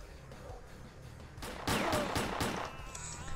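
Gunfire in the video game S.T.A.L.K.E.R. breaks out midway through as a burst of several sharp, close shots over a low ambient background.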